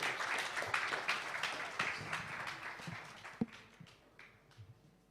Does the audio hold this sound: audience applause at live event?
yes